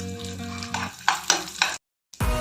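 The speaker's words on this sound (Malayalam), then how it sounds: "അതിലേക്ക് നമുക്ക് കുറച്ച് കിസ്മസ് ഇട്ട് കൊടുത്ത് ഒന്ന് വറുത്തെടുക്കാം" Raisins fry in melted ghee in a pan for a banana sweet stew, giving a steady close sizzle with a few sharp stirring scrapes, a brief silent gap, then the frying noise resumes alone.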